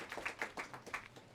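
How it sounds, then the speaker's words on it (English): A few scattered, faint hand claps from a small audience at a lecture oration, sparse and irregular, fading quickly rather than building into full applause. "Please give a round of applause"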